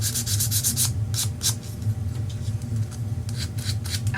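Rapid rhythmic scratching strokes of fine-grit sandpaper rubbing back and forth over painted kit pieces, close and fairly loud, in short bursts with a low hum underneath.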